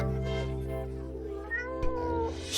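A single drawn-out meow from a cat over a steady low background hum.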